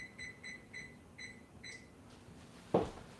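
An oven timer beeps in a short series of electronic tones, five quick evenly spaced beeps close by in a quiet kitchen, followed by a brief soft knock.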